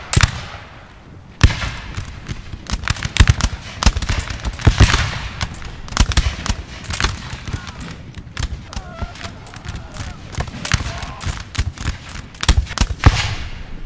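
Musket volleys crackle in a Napoleon Total War battle, with dense overlapping rapid shots and scattered louder reports over a constant battlefield din, while someone talks over it.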